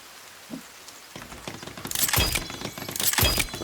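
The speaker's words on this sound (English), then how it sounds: "The rain reminded me that I need to set this up." Rain in the video game The Forest arrives as a broad hiss that swells from faint to loud in two heavy washes, with crackling bursts and a low thump near the start.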